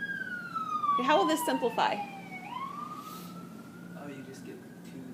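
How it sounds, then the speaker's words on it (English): Emergency sirens wail outside, sweeping down and rising again at a moderate distance, while a person talks over them indoors. "It sounds like they're playing with the sirens out there, doesn't it?"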